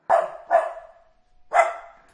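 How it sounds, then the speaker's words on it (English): A small white dog gives three sharp, yappy barks, two close together and a third after a pause, loud and near with silence between. "A wee little doggy called Salt."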